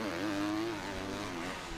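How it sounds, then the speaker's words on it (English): A motocross motorcycle at the British Motocross Championship at FatCat Motoparc revs hard and high while stuck in low gear. The engine note is loud and strained, rising and holding steady before it eases slightly. "It seemed like he was just revving that to high heaven, so I think he might be stuck in a low gear"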